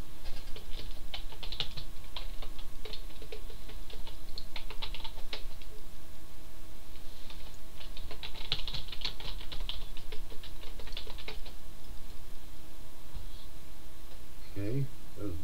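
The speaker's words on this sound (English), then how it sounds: "I hear you typing, but I don't see characters" Rapid clattering keystrokes on a computer keyboard come in irregular bursts, close and fairly loud, with a voice speaking near the end.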